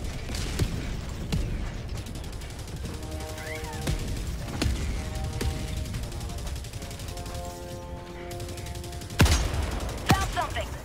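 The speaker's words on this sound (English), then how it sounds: "Walking barrage" Walking barrage artillery strike in Helldivers 2: repeated heavy booms hitting at intervals amid mechanical clatter and ringing tones, with a pair of strong blasts near the end.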